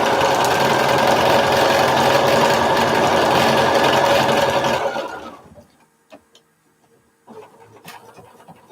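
A sewing machine stitches around a quilt with a fast, continuous whirring hum that runs for about five seconds. It then winds down and stops, followed by faint handling noises.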